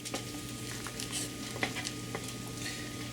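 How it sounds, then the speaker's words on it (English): Pork belly fried rice stirred in a pan, rapid light scraping and pattering strokes over a steady low hum and faint sizzle. "Stir."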